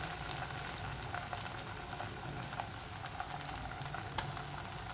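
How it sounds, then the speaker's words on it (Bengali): Chopped tomatoes sauté in a pan for a country chicken curry, giving a steady, faint bubbling sizzle with scattered tiny pops that runs on evenly, with no voices. "টমেটো কুচিটা দিয়ে দিলাম, ভালো করে কষিয়ে নেব।"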